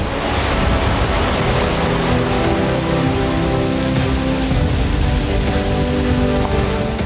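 A large forest waterfall with many streams of water falling produces a steady, dense roar that stays even and continuous throughout, with no voices.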